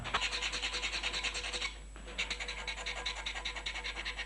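A tool scrapes steadily across a lithography stone drawing in a print workshop, a close rhythmic rasping stroke after stroke with a brief pause midway before the scraping resumes.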